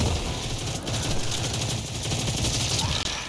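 Sustained gunfire blasts at a vent on a facility roof in Destiny 2, a steady loud stream of rapid shots over a low rumbling game backdrop, with no pauses until a brief cut near the end.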